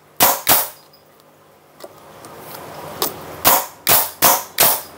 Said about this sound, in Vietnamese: Và súng nổ rất là đã luôn nha các bạn.